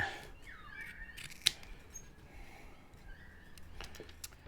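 Carpet being cut to fit a false floor in a Y62 vehicle, with a few faint, sparse snips and a single sharper cut at close range amid quiet background noise.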